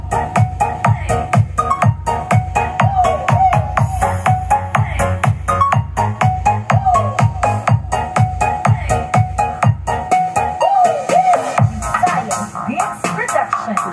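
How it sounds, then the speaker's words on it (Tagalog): Sound system with a mid/high speaker channel and a low subwoofer channel playing music, steady thumping bass beats under brighter tones, loud and continuous, bass dropping out near the end. "So ito yung tunog ng ating sound setup mga kasounds."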